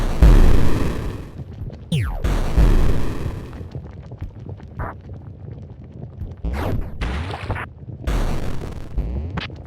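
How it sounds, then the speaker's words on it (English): Chained explosions in the video game Lazr, interacting with fluid: a run of deep booming blasts with rushing, wind-like roar and debris crackle, loud and overlapping in quick succession. "Explosions can be chained, which produce interesting results in fluid."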